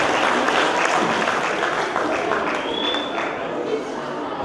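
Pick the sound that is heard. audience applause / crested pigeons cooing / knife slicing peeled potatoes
audience applause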